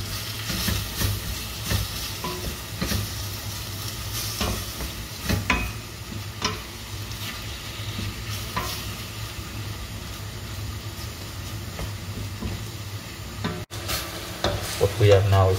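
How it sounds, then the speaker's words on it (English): Meat frying with paprika and cumin in a pan is stirred continuously for chilli con carne, a steady close sizzle under repeated scraping strokes of the utensil, with no talk. "Now we can add our paprika and our cumin and keep mixing."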